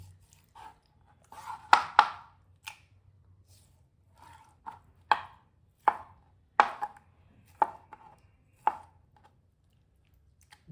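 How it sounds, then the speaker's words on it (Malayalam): A knife cuts fried beef brain into a few pieces on a board: about a dozen sharp, irregular chops, some in quick pairs and others spaced apart, fairly quiet with silence between strokes. "അതൊന്ന് ഒരു 4-5 കഷ്ണമായിട്ട് കട്ട് ചെയ്യുക."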